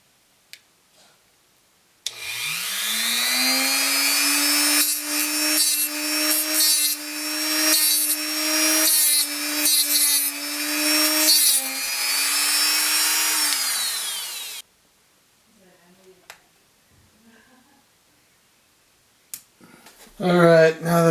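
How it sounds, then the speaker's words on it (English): A Dremel rotary tool cutting at screws on a Sigma DC 18-50mm lens whines up and holds a high, steady buzz for about twelve seconds with slight dips under load, then stops, leaving quiet handling clicks. "I'm trying to be very careful not to hit that with the Dremel tool too."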